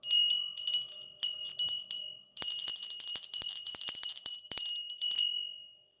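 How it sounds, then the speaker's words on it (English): A small handbell rung for good luck, bright high metallic jingling in quick bursts with short pauses, then a longer run of rapid ringing that fades out at the end, close and clear with no voices. "I'm going to ring a bell, you guys."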